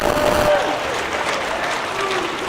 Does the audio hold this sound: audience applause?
yes